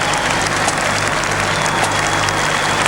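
Dense, sustained applause from a large crowd lining the route of the 1987 Vietnam Veterans parade in Sydney, loud and continuous throughout, with a steady low hum beneath it.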